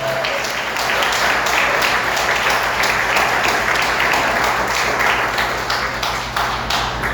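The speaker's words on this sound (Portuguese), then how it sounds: "Vamos aplaudir o Senhor." Church congregation applauds during a sermon, a sustained wash of many hands clapping at close range, swelling and then easing toward the end, with a low steady hum underneath.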